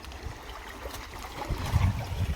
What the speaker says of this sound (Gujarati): આ કુંડીમાં આપણે સામેનું ખેતર છે ત્યાં આપણી વાવ છે નાથી અહીંયા આવે છે પાણી